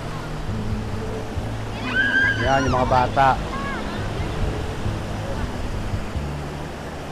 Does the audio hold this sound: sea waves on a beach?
yes